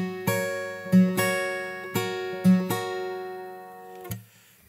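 Fingerstyle acoustic guitar plays the next bar of a song: a handful of plucked notes and ringing chord strikes in a steady pulse, close and clear, decaying to a final note with no talking.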